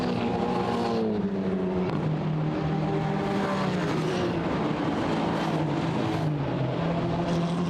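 Several GT4 Mercedes race cars run close together on the Paul Ricard circuit, their engines roaring loudly and steadily, with pitches rising and falling as the cars shift gears and pass one another.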